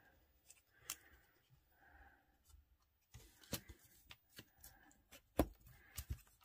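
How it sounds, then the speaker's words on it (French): Paper is creased and folded by hand for a rolodex craft, giving faint, close, intermittent rustles and sharp crisp snaps, with soft scraping between them and no talk. "Là aussi, on vient faire les plis."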